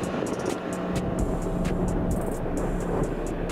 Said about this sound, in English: This time the Toyota goes noticeably quicker, completing the first third of the track literally in one shot.